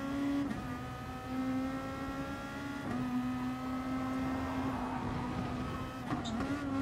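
A pack of race cars drives together in Gran Turismo Sport, their engines blending into a steady, loud, close drone with a few brief shifts in pitch.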